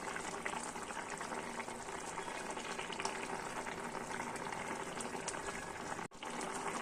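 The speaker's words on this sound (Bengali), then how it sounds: "এই যে একদম টকবক করে ফুটছে, হয়ে গেছে।" A pot of potato and pointed gourd (potol) curry with paneer boils hard, a dense continuous bubbling and popping that stays steady and close throughout, with one brief dropout near the end.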